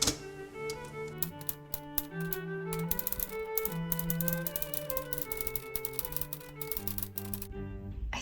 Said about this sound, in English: So I was typing, and I realized I got like these weird spots where there was no text.